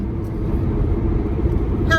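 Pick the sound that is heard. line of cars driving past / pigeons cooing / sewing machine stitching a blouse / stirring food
line of cars driving past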